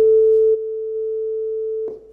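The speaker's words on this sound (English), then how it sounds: "we created this oscillator, which creates the sine wave" A pure sine wave from a JavaScript audio oscillator in a browser ringtone player: a steady, loud, constant tone lasting about two seconds, dropping slightly in level partway through and ending with a faint click.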